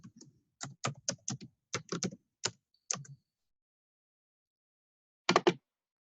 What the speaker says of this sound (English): off campus, you type in your net ID